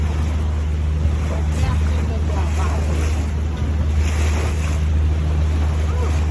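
Broad, steady rush of sea, waves and wind buffeting the microphone near the rock arch at Lover's Beach, Cabo San Lucas, where the Gulf of California meets the Pacific, with a boat's engine blending into the roar.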